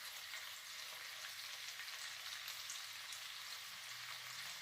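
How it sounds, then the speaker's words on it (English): Steady crackling sizzle of marinated prawns and fish frying in hot oil, continuous and close, with no talking. "now this is frying."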